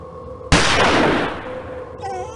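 A single loud gunshot cracks out close by, its blast decaying over about a second into a lingering rumble, then fading into quieter ambient noise.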